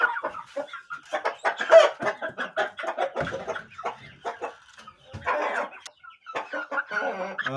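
A young cockerel chick nicknamed Kobra clucks and peeps in a steady run of short, sharp chirps, close and fairly loud, with brief pauses between bursts.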